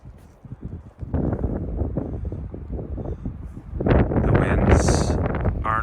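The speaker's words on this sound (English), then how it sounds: "they're still pretty good gusts" Strong gusts buffet the microphone outdoors in Tahoe after a blizzard, a rough, roaring wind that swells louder toward the end, with some faint rustling.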